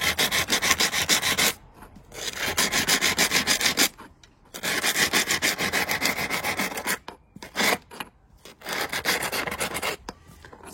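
Sandpaper of 200 grit rubs back and forth along the painted corner edge of a piece of wood, in steady scratchy bursts broken by short pauses, close and fairly loud with no talking.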